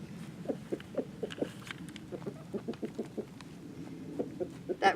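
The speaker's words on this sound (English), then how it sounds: "I hear my rooster." A rooster makes soft, low clucks in a steady series, pausing briefly before resuming, close by. Other faint outdoor sounds sit in the background.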